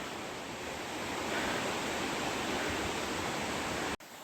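Machha Kandana waterfall in Similipal pours steadily as a loud, continuous rushing roar of water that fills the whole span and cuts off abruptly near the end.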